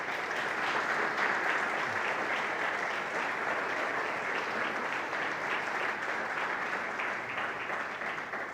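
A church congregation applauds together, a full, even roar of clapping that holds steady for several seconds, moderately distant and slightly fading toward the end.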